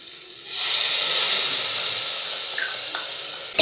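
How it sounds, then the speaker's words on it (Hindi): Masala roasts in a hot pan, starting with a loud, close sizzle that surges suddenly after a brief quieter start, then holds a steady hiss that eases slightly, with a small clink near the end. "मसाला भुना जा रहा है, अभी भुना नहीं है"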